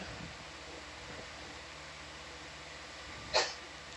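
A single short sneeze near the end, fairly close, over a steady low background hum.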